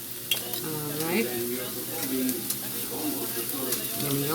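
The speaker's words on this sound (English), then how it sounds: "the only thing we're doing with our salmon is just frying it up really good in the frying pan" Salmon fries in a frying pan in a home kitchen, a soft sizzle running beneath a voice speaking throughout, with occasional stirring and light utensil scrapes.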